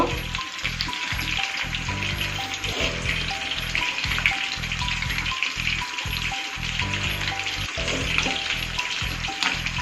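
Chicken kebab pieces dry frying on both sides in a pan, with a steady, loud sizzle and crackle throughout and soft rhythmic thumps underneath, without talking.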